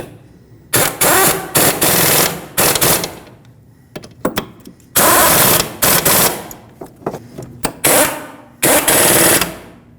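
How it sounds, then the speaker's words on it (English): An air impact wrench on its lowest setting runs down the wheel hub bolts of a 2006-2015 Lexus IS250 during a front hub bearing replacement. Loud, close bursts of rapid hammering, several about a second long, are separated by short pauses and lighter clatter. "I have my air tool set on the lowest setting because I want to just bottom this out"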